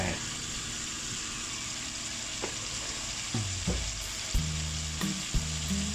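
Pumpkin and egg stir-frying in a pan, a steady loud sizzle throughout with a few scraping stir strokes and clunks of the utensil near the end, close up.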